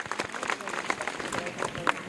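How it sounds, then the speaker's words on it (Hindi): Children at a quiz event give scattered applause for a correct answer, loose uneven claps rising and falling at moderate distance, with faint voices mixed in. "करेक्ट आंसर, तालियां इनके लिए"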